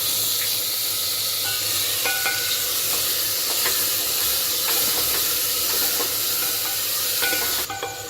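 Tomatoes roast with onions in a hot pan, giving a steady broadband sizzle and hiss throughout, with faint utensil clinks and scrapes now and then; no voices.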